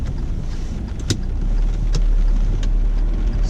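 Car pulling away in first gear, a low steady engine drone with road and wind noise inside the cabin, rising slightly as it moves off, with a couple of faint clicks.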